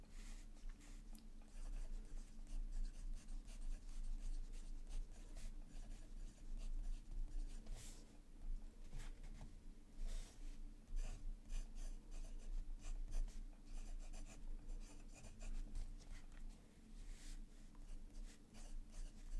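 A fountain pen inked with Wearingeul Robinson Crusoe scratches across paper in quiet, close, continuous strokes with small rhythmic scrapes and taps, heard alone without talk.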